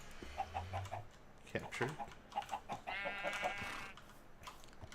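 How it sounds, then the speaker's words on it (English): A chicken clucks in short, fairly faint bursts in the Minecraft modpack Agrarian Skies, mixed with other game sounds while someone talks over it. "And we've got a chicken"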